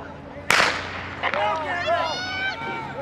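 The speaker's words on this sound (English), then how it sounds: "You're going to be still for me, and then I'm going to give you the gun." Starting gun fired at a track meet for an invitational 1600-meter race: one sharp, loud crack, followed by crowd noise and scattered shouts as the runners set off.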